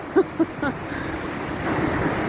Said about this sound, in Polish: wspaniale jest widzieć takie lekko wzburzone morze